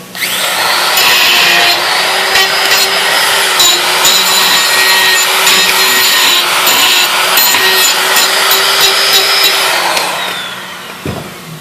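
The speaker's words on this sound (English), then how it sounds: "We're going to grind the edges, make it smooth" A power tool grinds metal edges smooth continuously for about ten seconds, loud and whining, then spins down and stops.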